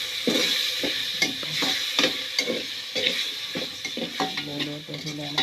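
Mung beans and chicken are stirred and fried in a pan during a home lunch cook, with a steady sizzle under repeated scraping strokes and light clinks of a utensil against the pot.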